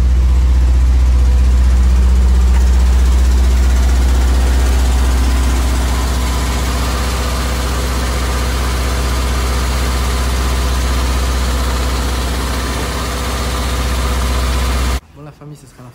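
A Rolls-Royce Silver Spirit V8 idles with a deep, smooth low rumble, loud and steady at close range, easing slightly in level toward the end before stopping suddenly.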